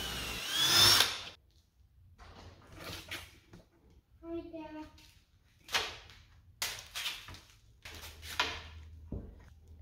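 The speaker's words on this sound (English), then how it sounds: "For this side, you can just do the dowel holes," A power drill bores dowel holes into the wood of a farmhouse table in a workshop, heard as several short, sharp bursts spread through the clip, with a voice speaking in between.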